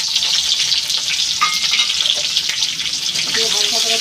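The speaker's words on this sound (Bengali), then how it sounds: "তেজপাতা দিয়ে দিলাম, পেঁয়াজ ফোড়ন দিয়ে দিলাম" Bay leaf and onion tempering fry in hot oil before meat is added, making a loud, dense, continuous sizzle with a few stirring clatters layered over it across four seconds.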